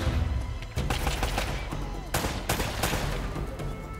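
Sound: gunfire in Uncharted: Drake's Fortune video game

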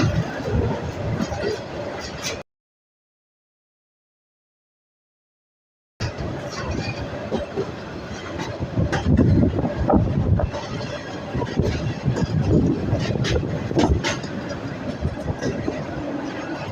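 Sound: train slowing down entering a railway station

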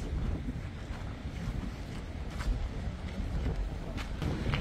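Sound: strong wind blowing while on a boat

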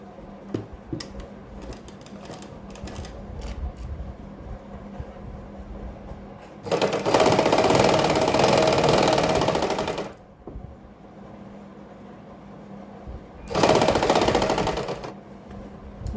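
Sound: sewing machine basting stitch on kurti neck fabric

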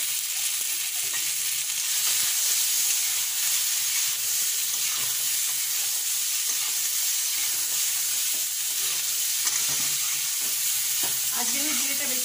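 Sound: frying cumin and ginger in pan

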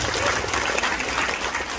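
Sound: applause

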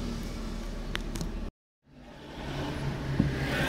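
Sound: trucks driving along a narrow street

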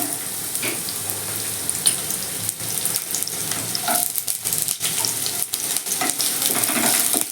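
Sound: onion frying in hot oil

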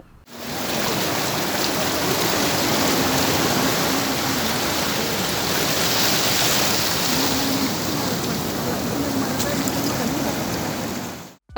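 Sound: floodwater flowing through a cut sand bank into the sea

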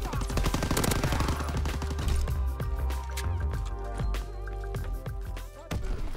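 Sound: PPSH-41 submachine gun firing in video game Call of Duty WW2

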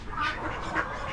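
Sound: silver mallard ducks quacking

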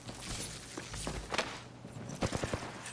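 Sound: gunfire in the video game Rainbow Six Siege

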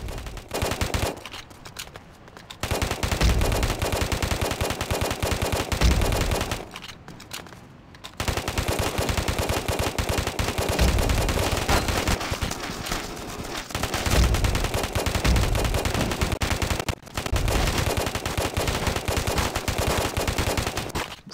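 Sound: A500 gun firing rapidly in video game Afterpulse

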